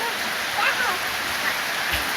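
Heavy rain falling outside near a veranda, a dense, loud and steady hiss of downpour that fills the whole moment without letup.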